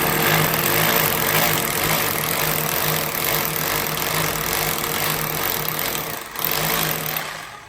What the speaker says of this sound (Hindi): अभी हमने इसको नीचे कर दिया है और हम इसके ऊपर चलाएंगे ड्रिल मशीन।